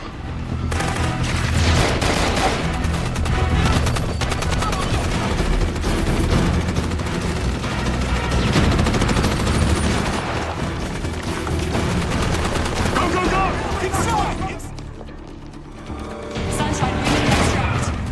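Heavy gunfire in a film firefight at a cathedral: loud, continuous automatic bursts and booming shots overlap, with a brief lull near the end before firing resumes.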